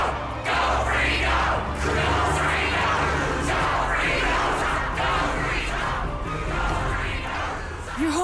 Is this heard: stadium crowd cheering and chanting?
yes